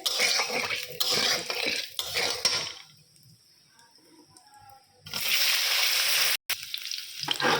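Spices frying in a pan, stirred with a utensil, give a close crackling sizzle with scraping and clinks, then a quiet gap of a couple of seconds before the loud sizzle returns.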